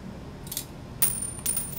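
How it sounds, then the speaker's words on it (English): A quarter drops through an arcade coin mech after it is adjusted with a flathead screwdriver, giving two or three bright metallic clinks close up over a quiet room. "keep turning it to the right until that quarter falls through"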